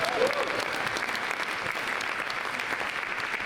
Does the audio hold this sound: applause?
yes